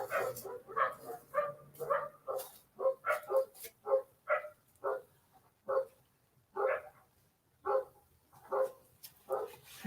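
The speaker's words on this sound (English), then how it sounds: "Hey, my neighbor's dogs." A neighbor's dogs barking repeatedly in uneven bursts, moderately distant, with some yips and whimpery notes between barks and no talking.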